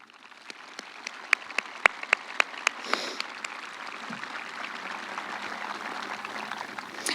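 Graduation ceremony audience applause at a Truman High School event, opening with a handful of sharp separate claps that build into a soft, distant, steady patter of clapping from a large crowd.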